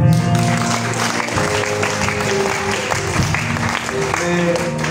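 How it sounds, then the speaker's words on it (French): Church audience applauding during a prophecy service, steady dense clapping with a low crowd murmur and sustained tones underneath, loud and continuous throughout. "Acclame pour Jésus."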